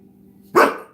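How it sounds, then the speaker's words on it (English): A dog named Killian Jones gives a single sharp, loud bark close by after a moment of near silence, the bark trailing off quickly. "Don't bark at me."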